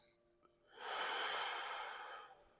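During a yoga stretch for the arms, back and shoulders, one long, steady breath is pushed out through the mouth or nose. The airy exhale swells, holds and slowly fades, close and fairly soft, with no talking over it.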